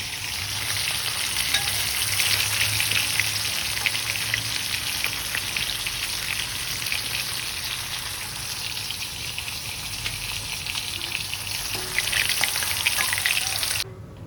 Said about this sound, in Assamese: সেই তেলতে পিঁয়াজ জলকীয়া দি ভালকৈ ভাজি ল'লোঁ